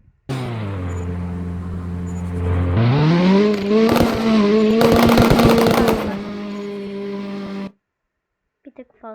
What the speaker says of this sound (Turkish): Arabanın sesine bakalım.